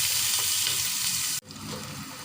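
Bay leaves, cinnamon sticks and green cardamom pods fry in hot oil for a North Bengal aloo ghati dish, making a loud, steady sizzle with stirring scrapes and a brief dip in the hiss partway through.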